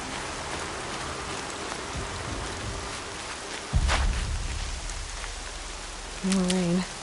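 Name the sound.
rain in a video game (The Banner Saga)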